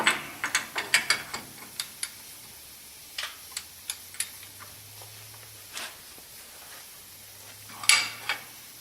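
Tie rod alignment adjuster being tightened on a Ford E-350 van, sharp metallic ratchet clicks in irregular bursts with pauses between, close and dry against a quiet background, no talk.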